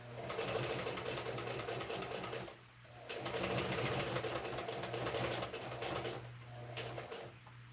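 Close and steady, a sewing machine runs a seam on a man's shirt with a rapid mechanical chatter, pausing briefly twice before starting up again.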